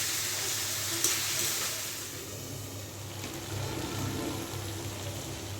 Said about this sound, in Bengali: এখানে হচ্ছে ওই যে ছোট মাছ রান্না করতেছি, টমেটো দিয়ে একটু ভুনা ভুনার মতো করব